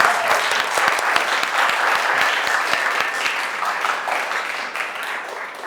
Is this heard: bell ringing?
no